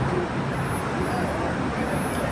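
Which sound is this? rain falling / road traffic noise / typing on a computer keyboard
road traffic noise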